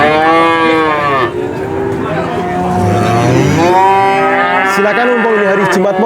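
Cattle low and moo repeatedly at Purwantoro cattle market, a busy livestock trading place; several long, drawn-out calls from nearby animals overlap against a constant background din of the crowded market.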